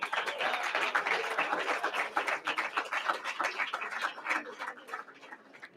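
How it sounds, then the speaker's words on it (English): An award ceremony audience claps for recipients, a moderate, fairly distant wash of applause with uneven bursts that thins out toward the end. "One last round of applause for everybody here and online."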